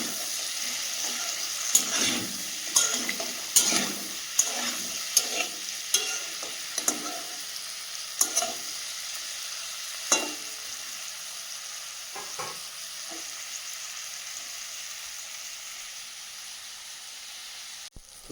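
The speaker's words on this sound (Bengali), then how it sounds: "তো চিংড়ি কাঁকড়াটা আমার ভাজা হয়ে গেছে, এবার আমি তুলে নেব" Large prawns and crab fry in a pan with a steady close sizzle, broken by repeated clattering stirs that come thick at first and thin out before the hiss fades at the end.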